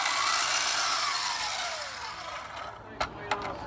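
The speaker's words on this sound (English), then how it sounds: "sand it down with a belt sander with very heavy grit, 60 grit in this case" A belt sander with coarse 60-grit sandpaper works over oak, giving a close, loud abrasive whir that slowly drops in pitch and fades, then ends in a couple of sharp knocks.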